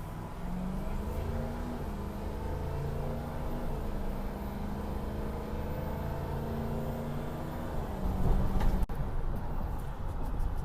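A 2005 Ford King Ranch pickup truck drives along with a steady engine hum and road rumble from inside the cab, rising in pitch as it accelerates and then shifts, with no talking.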